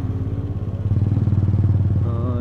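Engine of a vintage Binter Merzy motorcycle running at idle, a steady close low throbbing putter with quick regular pulses that rise slightly near the end, loud and alone.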